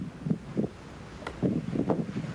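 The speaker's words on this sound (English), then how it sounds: "we got a lot of wind right now, and the snow's just starting to kick up" Strong blizzard wind buffets a microphone during a Skype call from Martha's Vineyard, heard as low gusty rumbling with several louder surges and a steady windy hiss between them.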